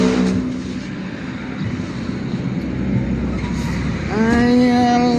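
A 20-year-old Jeep engine runs steadily with a low rumble, then revs up near the end, its rising harmonic tone loud and close, with no talk over it.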